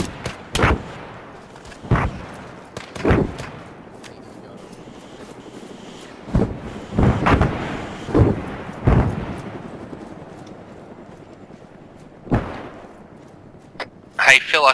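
Aircraft gun run firing on enemies in a video game, a series of heavy booming bursts spaced irregularly over about fifteen seconds against a low rumbling engine drone, with a voice briefly heard at the end.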